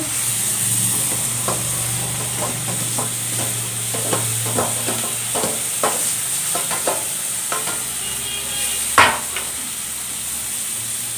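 Tomato frying in a pan for chicken masala, a steady sizzle with repeated stirring scrapes and clinks of a utensil against the pan, close and continuous, no talking.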